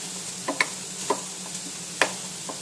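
Pork chops with cheese cooking covered in a pan on low heat, a faint steady sizzle broken by several sharp light ticks and pops spaced irregularly.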